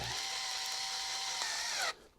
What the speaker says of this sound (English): Oh, I've got it on hammer drill.